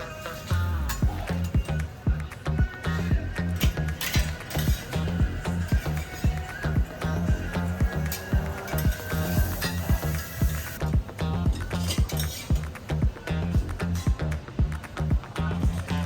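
Banana and Nutella roti with egg frying on a hot griddle at a Bangkok street stall, a steady loud sizzle with rhythmic metal scraping and tapping throughout, no talking.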